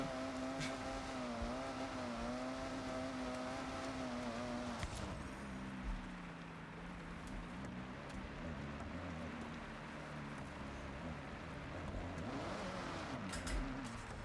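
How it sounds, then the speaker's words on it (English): A car engine in Forza Horizon 6 revs under hard throttle on a custom Eclipse, a sustained droning roar that climbs and shifts pitch through gear changes, loud and continuous throughout with no talk over it. "I'm hitting the gas pedal so hard that if I had damage on, I'd probably blow my engine"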